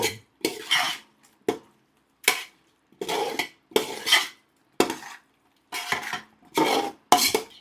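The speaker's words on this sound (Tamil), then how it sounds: "எல்லாத்தையும் போட்டு நல்லா கிளறி விட்டுருங்க." A spoon scrapes and turns chicken gravy masala in a pan in repeated bursts, about ten rough strokes separated by short pauses, close and clear with no talk.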